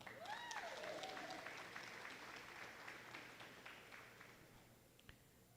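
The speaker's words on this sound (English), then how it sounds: "Given that round of applause" Applause fills a room at the Northeast Kings Education Centre graduation ceremony, a soft spread of many hands clapping that slowly thins and fades. A brief rising and falling whistle-like tone rises over the start.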